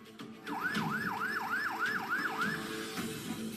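An ambulance siren wails as paramedics arrive at a house, a quick repeating up-and-down yelp of about seven cycles heard at moderate distance over low background noise.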